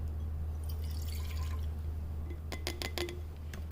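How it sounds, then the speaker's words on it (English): Vinegar is poured into a glass Erlenmeyer flask in a lab, a faint trickle followed by a few sharp glassy drips and splashes near the end over a low steady hum. "We're going to pour that into our Erlenmeyer flask."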